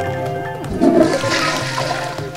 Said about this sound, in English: You guys need to really learn how to flush the stinking toilet.